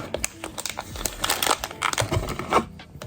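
A small plastic packet holding bracelet jewelry is squeezed and turned in the hands, making loud, close crinkling and crackling in quick irregular bursts, with no talking.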